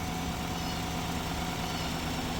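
A truck engine idles steadily and loudly at close range during a battery charging test, a constant low rumble with no revving.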